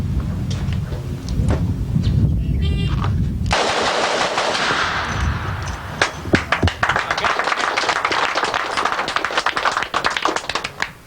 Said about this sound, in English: Let's see if I can shoot multiple targets now a little bit quicker.